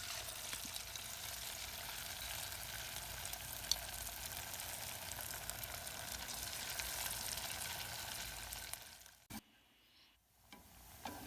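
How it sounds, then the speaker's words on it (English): Tablespoons of chicken fritter mixture fry in hot oil for Indian-style fritters, a steady faint sizzle and crackle lasting several seconds before briefly dropping away near the end, with no voices. "Drop your mixture in, about a tablespoon of your mixture into the hot oil."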